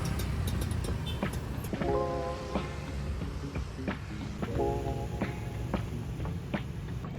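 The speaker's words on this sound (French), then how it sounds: "comme vous pouvez l'entendre, il y a un trafic monstrueux à cette heure-ci" Busy street traffic in Ubud, Bali: steady motor engine rumble with repeated horn-like tonal blasts and passing vehicles, fairly close and continuous, with no talking.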